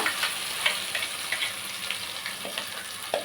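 Chana masala gravy cooks in a pan on a low flame, giving a continuous close sizzle with a light bubbling crackle throughout.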